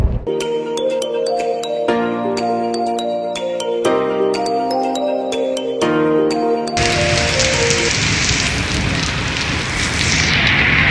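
Rain falls in Sialkot, a dense, steady hiss of drops coming in strongly over the last few seconds after a stretch of sustained musical tones, with no talk.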